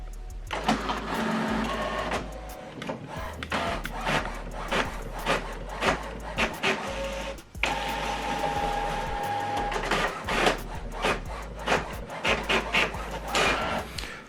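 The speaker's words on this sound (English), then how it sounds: "So this document now is printing." An HP Officejet printer running a double-sided print job, giving off a steady, close mechanical whir of rollers and motors with shifting tones and occasional clunks, continuous for the whole stretch.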